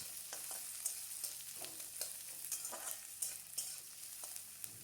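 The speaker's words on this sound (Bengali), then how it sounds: "পেঁয়াজটা ট্রান্সপারেন্ট হওয়া পর্যন্ত নাড়ব।" Chopped onion, a medium one, stirred in a pan of hot oil after a tempering, a steady soft sizzle broken by scraping spoon strokes at irregular intervals, close and moderately quiet with no voices.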